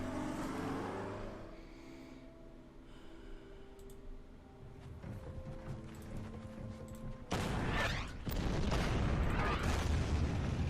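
Artillery fires in the World War II strategy game Order of Battle. Scattered mechanical clanks and rumbles build to a sudden loud blast near the end, followed by sustained booming, with no talk.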